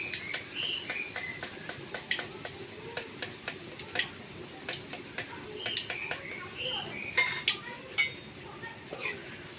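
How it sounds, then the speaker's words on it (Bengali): Besan batter fries gently in oil on a low flame, a faint soft sizzle under scattered ticking taps and clinks, while someone speaks quietly throughout. "তো দেখতে পাচ্ছেন কত সহজভাবে এগুলো ভেজে নেওয়া যায় আর গ্যাসটা একদম কিন্তু কমানো থাকবে"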